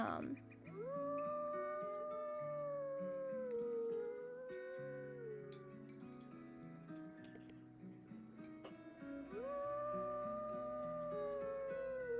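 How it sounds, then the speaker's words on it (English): A wolf pack howls in a video game, several long rising and falling howls overlapping in a sustained chorus, dipping midway before a fresh round of howls swells up, with no talking over it. "we're first gonna howl"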